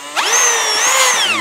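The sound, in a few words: power screwdriver unscrewing screws from steam wallpaper stripper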